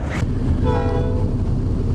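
A train rolls past on a windy day with snow and rain around, a loud steady rumble of cars while a horn sounds in the middle.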